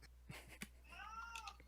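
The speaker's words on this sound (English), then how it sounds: "Your cat's getting pissed off." A pet cat gives one drawn-out, rising-and-falling meow, close and fairly clear, after a couple of short soft sounds, with no one speaking.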